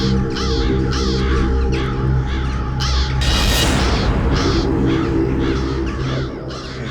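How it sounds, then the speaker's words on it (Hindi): Several crows cawing repeatedly in loud, rhythmic bursts close by, with a steady low hum beneath and a brief louder rushing swell midway. "इतने सारे कौवे इस वक्त?"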